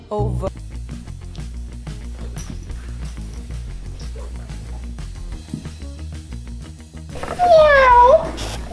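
Quiet background music plays, then a cat lets out one loud, drawn-out, wavering meow close by near the end.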